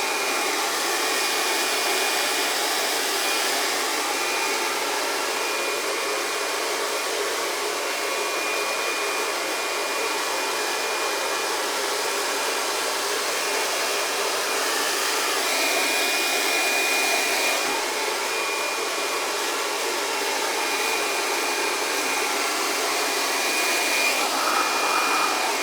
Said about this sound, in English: I'm going to switch my hairdryer to cold, turn the heat off, put it on full power.